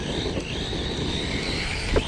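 A Redcat Kaiju 6S RC car's electric motor held at throttle, a steady high whine over gritty rumble from close by, with a small bump near the end.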